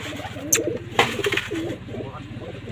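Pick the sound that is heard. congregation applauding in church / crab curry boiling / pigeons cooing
pigeons cooing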